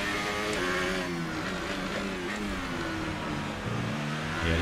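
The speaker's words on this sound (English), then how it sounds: "the engine is definitely not supposed to sound like that" A race car engine in an F1 video game at Baku Street Circuit, sounding faulty: a continuous droning, slightly wavering engine tone that rises and dips in pitch, steady and fairly loud throughout with no talk.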